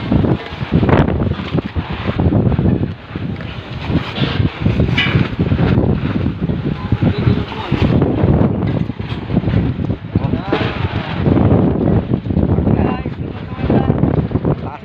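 Strong wind buffets the microphone in heavy, continuous gusts, with people talking throughout underneath the roar.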